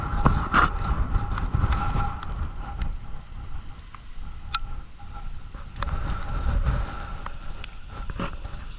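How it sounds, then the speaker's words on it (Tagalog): Strong typhoon wind buffets the microphone in continuous low rumbling gusts, with a faint steady hum in the background and no talking. "Taas ng hangin."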